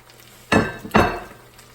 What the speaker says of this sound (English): go ahead and add your shrimp back in